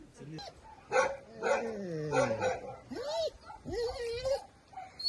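Several dogs bark, yip and whimper nearby in overlapping bursts, with a person's voice talking underneath.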